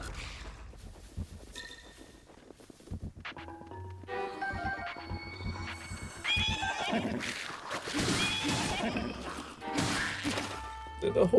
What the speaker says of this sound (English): Did a horsey just kick someone?